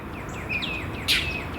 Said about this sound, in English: look at the birds going crazy